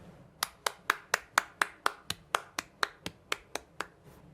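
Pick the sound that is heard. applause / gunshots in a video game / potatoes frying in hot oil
applause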